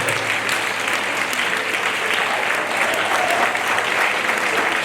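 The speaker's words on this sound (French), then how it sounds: "Et on applaudit le Seigneur." A church congregation at a Protestant evangelical service in Guinea applauds in a dense, continuous wash of clapping that stays even and loud throughout.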